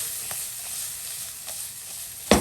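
Vegetables are tossed in a pan with a little oil outdoors, making a soft, steady sizzle with a few faint scrapes and a sharper clatter at the end.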